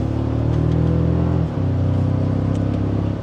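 A 2025 Toyota Tacoma TRD Pro pickup pulls away in sport mode in second gear, its engine droning steadily and loud from inside the cab, with a brief dip as the gear shifts midway before the drone resumes.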